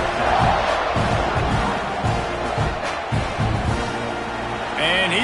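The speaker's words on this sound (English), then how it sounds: "this crowd is buzzing after that last score" Football stadium crowd buzzing after a touchdown in a game against Texas, a dense, loud roar of many voices with cheers rising and falling, under a commentator's talk.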